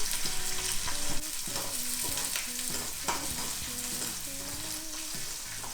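Curry leaves sizzling in hot oil in a pan with ginger and green chilies, cooking for a Kerala mangrove jack fish curry; a steady, close frying hiss with intermittent stirring scrapes and taps, no voices.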